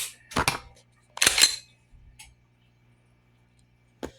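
A PUMA 9x19 pistol fired during a test session with 124-grain ammunition: three sharp, cracking reports spaced unevenly over a few seconds, the first two close together and the last brief and isolated, with quiet gaps and no talking.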